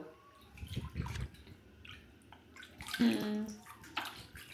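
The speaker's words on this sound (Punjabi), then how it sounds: "ਪਾਣੀ ਭਰਤਾ ਹੈ" Water runs into a baby's bathing tub, a soft filling and sloshing sound that rises in the middle, with faint handling noises around it and no voices.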